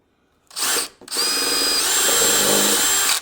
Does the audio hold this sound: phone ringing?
no